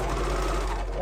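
A sewing machine runs steadily and close by, stitching down the crotch seam of baby bell bottoms with a continuous, even motor whir for the whole moment, no voices.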